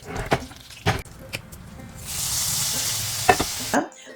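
Hot oil tempering of fried shallots and curry leaves poured over a raw-mango curry gives a sudden loud hiss that rises and holds, after a few clinks and stirs, then cuts off.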